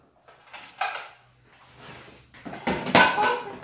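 Several newly bought plates clink and knock together in a household kitchen, a couple of soft taps early on, then a louder run of ceramic rattles near the end, close and without talk.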